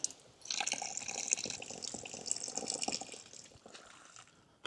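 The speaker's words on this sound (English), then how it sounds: "Oh, nice cold water there." Cold water gushes and splashes steadily from a well spout at a riverside campsite, a continuous bright rushing stream with small drips, fairly close and with no voices.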